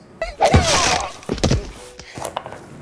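A knife works through a tough vegetable on a cutting board, slicing it into half-inch rounds for oven baking; heavy close thunks against the board with some scraping and knocking.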